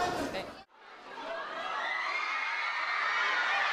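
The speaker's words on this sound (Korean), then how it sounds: "극장이 떠나가라 퍼지는 팬들의 함성" Fans cheer and shout loudly inside a theater at a film premiere, the roar continuing steadily after a brief drop near the start, with high-pitched screams mixed into the crowd noise.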